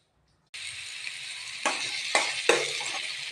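Mushrooms hit hot oil in a pan and set off a steady, bright sizzle after a moment of silence, with a few louder crackling bursts as pieces are stirred or added; no one speaks.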